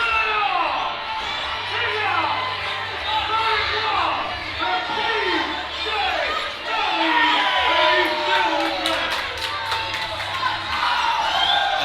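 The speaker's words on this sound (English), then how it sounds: "this crowd is loving everything they are seeing right now from these teams" A wrestling show crowd roars and cheers steadily throughout, with scattered shouts and whoops rising out of the dense, continuous noise of a large audience.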